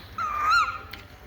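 A single high, drawn-out squeak from a falconry bird of prey at a reenactment display, rising then falling over about half a second, alone against quiet background hiss.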